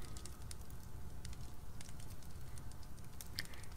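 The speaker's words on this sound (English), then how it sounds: "you guys are hearing the crackling of the fireplace if I stop speaking" Fireplace fire crackling quietly, with scattered sharp pops and snaps over a low steady rumble, heard alone without talk.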